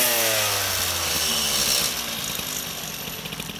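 MBK 51 moped two-stroke engine running close by, a loud buzzing note that climbs as the throttle opens and then settles into a rough, rattling idle.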